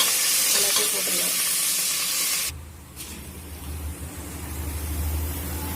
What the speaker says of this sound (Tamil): நல்லா பொரிஞ்சிருச்சு பூண்டு காஞ்ச மிளகாய் எல்லாம்